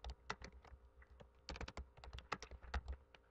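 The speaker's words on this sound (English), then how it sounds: "so I'm typing in the file name" Someone types a file name on a computer keyboard while saving a Word 2013 document: rapid, irregular clusters of crisp keystrokes, close and clear, with no talking.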